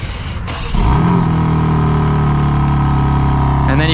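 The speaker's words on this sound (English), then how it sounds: "There's also the quad tip dual exhaust," A 2024 BMW M3 Competition xDrive fires up through its quad-tip dual exhaust with a sharp starter crank and bark, then settles into a steady, deep, loud idle rumble close by for the remaining few seconds.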